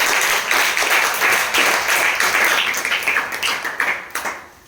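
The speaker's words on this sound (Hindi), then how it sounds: "आप एक बार जोरदार ताली बजाएं" Students in a science classroom clapping hard together, a dense, loud round of applause that carries for several seconds before breaking into scattered individual claps and dying away.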